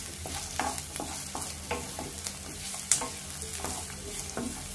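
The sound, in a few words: chopped capsicum and carrot frying with onions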